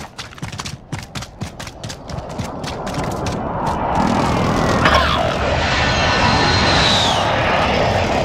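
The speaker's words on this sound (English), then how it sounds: "Precision airstrike!" Precision airstrike in Call of Duty: scattered rapid gunfire gives way to a heavy, rising aircraft roar that swells into a loud, sustained flyover rumble with a high engine whine passing over.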